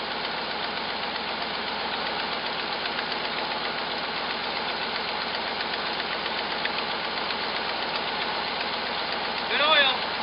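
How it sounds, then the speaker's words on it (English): A Jeep J7 engine idles steadily with a harsh, ticking exhaust leak, close by, with a person speaking over it briefly near the end. "Boy, that exhaust leak is horrific."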